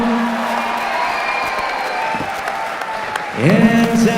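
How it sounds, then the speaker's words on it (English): Crowd at an amateur MMA event cheering and applauding the fighters in the cage, a steady roar of clapping and voices, with an announcer's voice rising near the end. "let's cheer for both fighters in the cage tonight"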